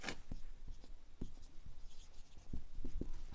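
A pen or pencil scratches on paper during a maths lesson, with short taps and strokes of handwriting coming close and quiet in an irregular rhythm.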